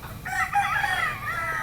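A hen-feathered rooster, a breeding cock with hen-like plumage, crows once in a long drawn-out call, near and clear against a quiet farmyard background.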